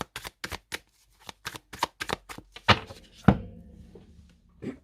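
An oracle card deck is shuffled in quick, close rhythmic flicks, then cut with a couple of louder slaps and thuds of cards set down.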